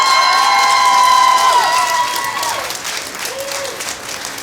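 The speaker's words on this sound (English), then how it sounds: "Please make some noise for the first time as a married couple, Scarlett and Jacob." Wedding guests burst into loud, sustained applause and cheering for a newly married couple at their ceremony. The clapping starts near and dense, then slowly thins and fades, with scattered voices mixed in.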